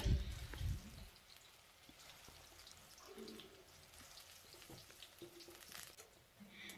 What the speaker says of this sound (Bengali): তেল গরম হয়ে গেছে এখানে আমি এক এক করে বড়াগুলো ছেড়ে দেব